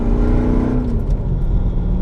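A manual Mercedes C55 AMG with a dual-mass C-Class flywheel revs up quickly, a loud, close engine note rising and then falling away within two seconds.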